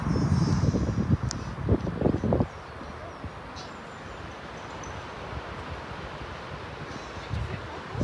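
Strong wind buffets the microphone outdoors beside a horse, loud rumbling gusts for the first couple of seconds, then settling into a softer steady rush with faint rustling.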